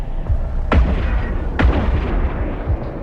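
Ship weapons firing in the EVE Online space game as a new player opens fire on a target: three heavy booming blasts about a second apart, loud and close over a dense rumbling low background.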